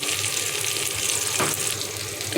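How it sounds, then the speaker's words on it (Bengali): Steady, fairly loud sizzling of whole cumin seeds in hot oil, a dense crackling hiss that continues without a break. "1 চিমটি গোটা জিরে দিলাম, আমার জিরে ফ্লেভারটা খুব ভালো লাগে"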